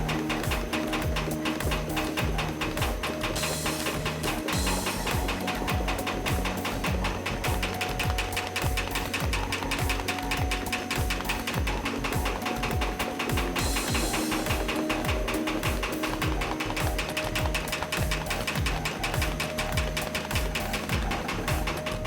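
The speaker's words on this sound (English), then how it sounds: "Processing begins with the first pass through a fluent sorter." A fluent sorter machine running mail-in ballot envelopes through, a continuous dense mechanical clatter with rapid rhythmic ticking and a steady hum, loud and unbroken throughout.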